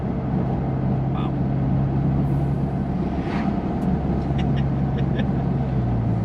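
A JB4-tuned BMW F10 M5 engine pulls hard in second gear during a roll-on, a deep continuous drone heard from inside the car with a voice briefly over it.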